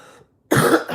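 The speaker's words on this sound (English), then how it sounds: "I got a hard cough. It ain't no, one of them soft coughs." A single hard, harsh chest cough bursts out loudly and close after a brief silence, with no talk.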